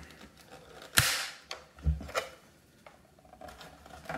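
Plastic clips on a CPAP machine being pried open, giving a few sharp, sudden cracks and snaps spaced irregularly, fairly close but quiet, with faint handling noise between them.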